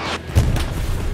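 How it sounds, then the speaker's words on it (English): Artillery in the WWII shooter Hell Let Loose lands as a single deep, muffled boom with a low rumbling tail, heard at a moderate distance. "Bunch of artillery."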